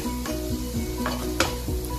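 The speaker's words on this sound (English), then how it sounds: "जो मैंने छोटा छोटा कट करा है, उसको हम सॉटे करेंगे स्लो मीडियम फ्लेम पे" Small chopped ingredients sautéed over a slow medium flame, a continuous close sizzle punctuated by repeated rhythmic scrapes and taps of a spatula stirring in the pan.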